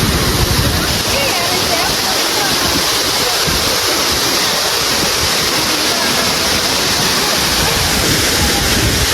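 A waterfall beside the Marsyangdi river in Manang, Nepal roars loudly and evenly, a dense, constant rush of falling water that fills the whole clip.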